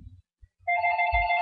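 Telephone ringing in a Fire Emblem: Blazing Sword game, a bright electronic trill that starts abruptly after a few soft low thumps and continues steadily and loud to the end.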